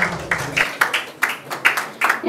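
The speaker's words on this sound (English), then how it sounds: "A huge round of applause for these amazing team members" A short burst of scattered hand clapping, a small crowd applauding briefly with uneven, overlapping claps for team members at a motor rally ceremony.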